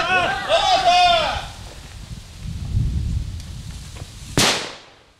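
A training grenade goes off during a tactical drill: a shout comes first, then a low rumbling thud, and a sharp loud crack near the end that decays quickly outdoors.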